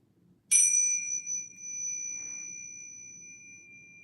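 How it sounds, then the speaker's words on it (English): A small chime is struck once and rings out with a long, bright, slowly fading tone, with a softer second touch partway through, in a quiet room. "I would love to just play a little chime to clear the energy."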